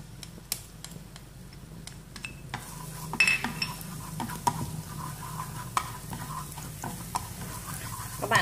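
Minced garlic and shallots sizzle in hot oil in a pan, with a soft steady hiss under scattered clinks and scrapes of a utensil stirring against the pan, close up.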